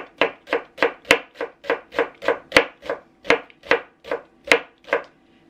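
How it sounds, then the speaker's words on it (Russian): A knife chops pigodi dough into squares on a board, a steady run of about sixteen crisp, evenly spaced thuds, close and clear with nothing else behind them. "Переворачиваю и начинаю резать на квадратики, вот таким образом."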